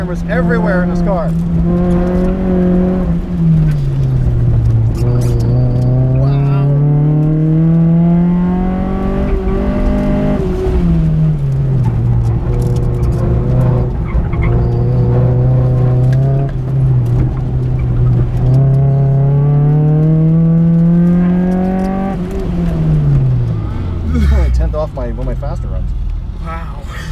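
Near stock Chevy with modified suspension on an autocross course, heard from inside the car: the engine revs loud and steady, climbing and dropping repeatedly through corners, with a sharp drop near the end, while people talk throughout.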